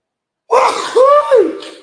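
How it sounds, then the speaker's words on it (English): A single hard human sneeze, loud and close, with a sharp intake of breath, then the explosive burst trailing off. "Sometimes I have to sneeze hard."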